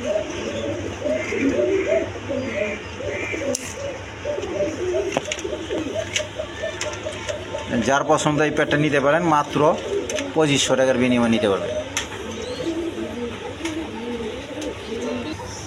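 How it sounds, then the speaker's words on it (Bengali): A pair of pigeons, a male and a new adult female offered for sale, coo softly in repeated low calls while someone talks over them throughout. "এখানে এক পেয়ার কবুতর আছে"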